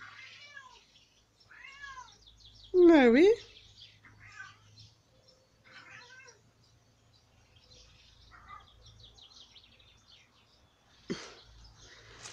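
A tomcat, father of kittens, lets out one loud, close meow, surrounded by softer chirping calls and a quiet voice speaking briefly.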